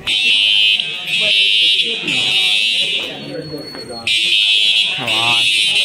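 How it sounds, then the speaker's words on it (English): A loud school fire alarm blares in repeating electronic horn pulses with short gaps, while several people talk and laugh close by over it. "I never imagined we had two alarms in one day."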